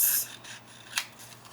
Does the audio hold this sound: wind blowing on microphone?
no